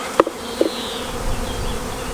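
Honey bees buzzing around a hive super, a continuous close, steady hum of many bees with a couple of brief louder bumps near the start.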